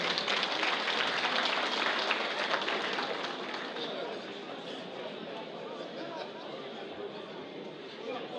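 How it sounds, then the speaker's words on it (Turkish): Audience applause fills a hall at an education and culture evening honouring a former Sakarya MP, a dense continuous wash of clapping that eases slightly toward the end, with crowd chatter mixed in. "Bu alkışa ben çıkmazdım."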